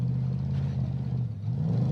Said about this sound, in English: there's a whole lot of rattling going on underneath the hood of that vehicle